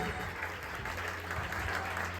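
Applause for children at a stage performance: a short, steady burst of many hands clapping, moderately distant and even in loudness, with faint crowd murmur underneath.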